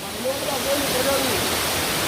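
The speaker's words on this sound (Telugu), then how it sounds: "ఇక్కడ నుంచి ఒక దూరం వచ్చిన వరకు మనకి వాటర్ ఫాల్స్ అయితే కనబడుతుంది అన్నమాట." Sarugudu waterfall near Narsipatnam gives a steady, loud broadband rush of falling water, with faint voices murmuring beneath the roar.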